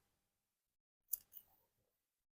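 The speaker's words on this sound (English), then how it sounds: "So we're just going to cut some yarn off here" Scissors snip through crochet yarn in a quiet room: one short crisp cut followed by a smaller click and a faint rustle, then silence.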